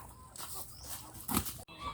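Chickens in a farm coop cluck and squawk nearby in uneven bursts, with one louder outburst near the end.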